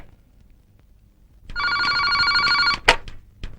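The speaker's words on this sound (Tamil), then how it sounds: "சீதா, உங்களுக்கு போன்." A telephone bell rings indoors in a domestic scene, one loud sustained electronic trill burst after a quiet start, followed by a short clunk as the handset is picked up.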